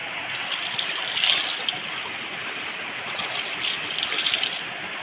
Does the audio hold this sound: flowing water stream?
yes